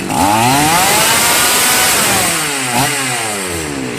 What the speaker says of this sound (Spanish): La dejo muy muy fina, la máquina sube mucho de vuelta.